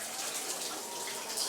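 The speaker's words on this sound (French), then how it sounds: "Vous prenez une petite douche?" A shower runs steadily as a continuous hissing spray of water, with no voices.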